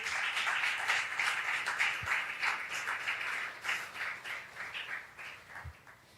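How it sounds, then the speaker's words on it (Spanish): A church congregation claps together in sustained, even applause that continues at a moderate level for several seconds. "Dale un aplauso a aquel que vive."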